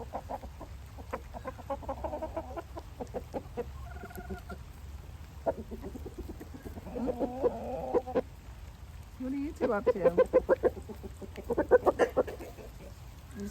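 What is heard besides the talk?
roosters clucking while free ranging in the rain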